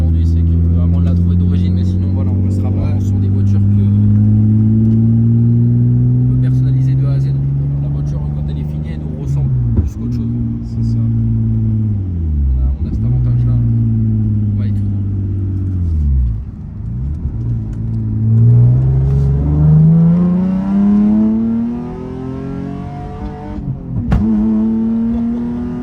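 Nissan 350Z (Z33) with a flame-spitting exhaust, loud and close, revving hard and accelerating up to about 80 km/h through several gear changes, its engine note sweeping upward repeatedly with voices talking over it.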